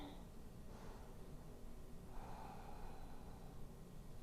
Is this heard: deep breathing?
yes